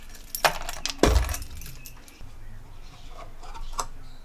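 A tin of lightweight car body filler being opened, with a few sharp metallic clicks and clinks of the lid prying loose, close and fairly quiet against a faint room background.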